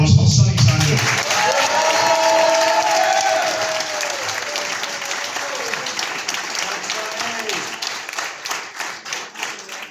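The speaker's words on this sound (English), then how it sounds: "Can I have a big round of applause for Sonny Sanders?" An audience at a football club's player of the year awards night bursts into loud applause for an award winner, starting strong and tapering slightly while clapping continues, with some cheering voices over it.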